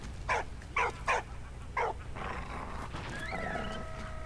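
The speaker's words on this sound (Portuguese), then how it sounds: "o cachorro tá bravo" An angry dog in the World War I game Valiant Hearts barks four times in a fast, uneven burst, followed by rumbling ambience and a rising tonal game sound.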